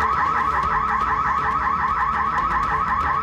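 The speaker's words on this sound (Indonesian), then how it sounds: "pelaku kaget karena alarm minimarket berbunyi" A minimarket alarm goes off during a theft: a loud, steady electronic siren cycling rapidly and evenly without pause, alone with no voices.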